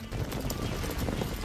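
A horse in a video game thrashes and kicks amid a chaotic fight, hooves clattering in a rapid, loud, continuous jumble with dense game noise around it.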